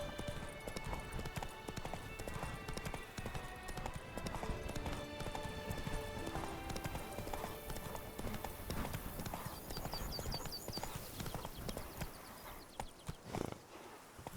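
Roach the horse gallops in The Witcher 3 with steady, dense clip-clop hoofbeats throughout, a brief whinny near the end, and game music and ambient sounds layered beneath.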